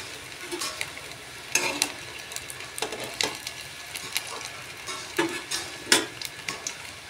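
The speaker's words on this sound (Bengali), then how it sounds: "তেলটা গরম হওয়ার পর পনিরগুলো কড়াইয়ে দিয়ে ভেজে নেব" Homemade paneer pieces frying in hot oil in a kadai, with a steady crackling sizzle and occasional sharper pops and scrapes from stirring, close and moderately loud with no talking.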